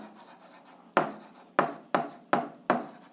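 A pen or pencil scratches across paper in five quick, separate strokes, each a short rasping scrape, close and clear against a quiet background.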